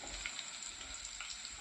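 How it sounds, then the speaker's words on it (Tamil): Two slit dried red chilies fry in hot oil for a South Indian beetroot poriyal, giving a steady, close, even sizzle and crackle with no pauses. "கூடவே 4 வரமிளகாய் எடுத்து 2 கீறி அதையும் எண்ணெயில் பொரிய விட்டுருவோம்."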